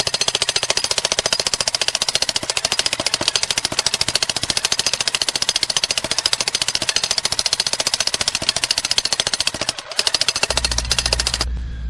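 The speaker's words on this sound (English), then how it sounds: "We're going to bring that jackhammer over here" A jackhammer breaks granite rock during an emergency repair, hammering in rapid, loud, steady bursts close by, dipping briefly near the end before cutting out to a low rumble.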